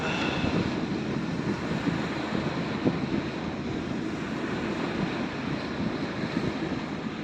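Sea waves at a swimming beach in Naic, Cavite, making a steady broadband wash with wind noise on the microphone, continuous and fairly close, with no talk.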